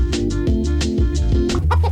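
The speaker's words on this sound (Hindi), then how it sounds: "देखो क्रिस की मुर्गी।" A hen clucks in a series of rhythmic, close calls, loud and clear with no talking over it.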